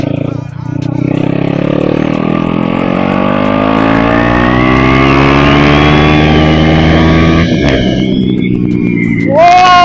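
A 390 motorcycle ridden close by climbs in pitch as the engine revs up through a long, loud pull. It ends with an abrupt shift in tone.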